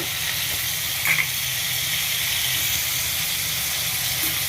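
Tomatoes sautéing in a pan for a country chicken curry give a steady soft sizzle throughout, with a brief stirring scrape near the middle and no talk.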